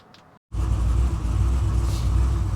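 A 1969 GMC truck with a swapped LS3 V8 catches after a moment of silence and settles into a loud, close, steady idle rumble that surges slightly.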